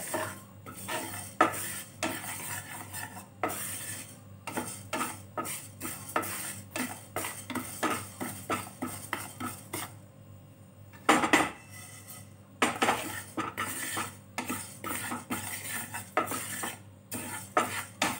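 Lentils being roasted slowly in a pan until golden: a spoon scrapes and rattles against the pan in steady, repeated stirring strokes, close and continuous, with one brief pause partway through.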